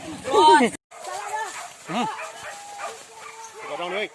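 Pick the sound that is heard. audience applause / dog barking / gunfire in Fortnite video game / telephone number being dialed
dog barking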